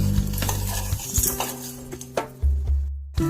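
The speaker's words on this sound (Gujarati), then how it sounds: "સાકરને કેરામલાઈઝ થવા દઈશું અને ધીમા ગેસ ઉપર આપણે એને હલાવતા રહીશું" Sugar caramelizing for kulfi gets stirred in a pan on a low flame, a spoon scraping and clinking against the metal in uneven strokes, close and alone.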